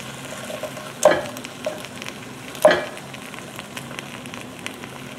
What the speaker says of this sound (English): As that butter's melting there in the middle